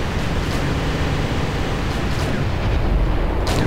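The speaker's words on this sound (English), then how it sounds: "I can of course see that there are some Katyushas firing from here" Katyusha rocket artillery firing in the war game Wargame, a dense continuous roar of launches and blasts that stays loud throughout and swells slightly near the end.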